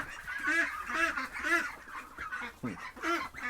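Several ducks honk and quack in a loose series of nasal calls, close and fairly loud, with short pauses between bursts.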